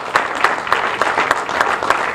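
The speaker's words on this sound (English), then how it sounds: "Please applaud all of the commissioners" A crowd claps for city commissioners at an outdoor groundbreaking ceremony for the future West Palm golf park. The applause is moderately loud and fairly steady, with a few sharper claps standing out, and no voices are heard.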